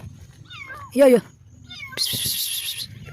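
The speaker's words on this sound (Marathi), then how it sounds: "ही मांजराच पिल्लू ओरडायला लागले" A kitten gives several thin meows, then one loud, close cry, while a person calls out nearby.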